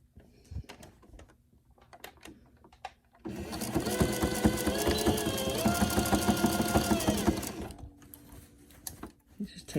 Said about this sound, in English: I'm going to back stitch in the areas, the two areas where the strap is attached